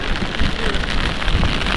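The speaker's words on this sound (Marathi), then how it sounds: "आम्ही इकडं मस्तपैकी पावसात आलो आहे पाऊस जाम पडते" Heavy rain pours down during a downpour while fishing outdoors, a dense, steady hiss of drops drumming on surfaces close by, continuous and loud with no voices.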